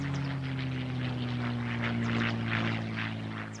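Propeller tow planes of a massed World War II airborne fleet drone steadily overhead, a continuous loud engine hum with a low buzzing tone and no breaks.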